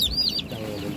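A chicken clucks and squawks briefly at close range, a short high call over faint background noise.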